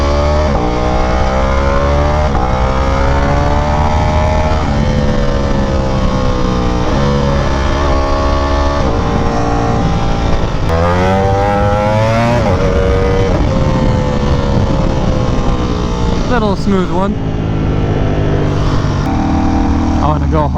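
A full-carbon Ducati Panigale V4R roars steadily while being ridden on the road, loud and close, its engine pitch rising and falling through gear changes and revs, with a rider's voice briefly over it.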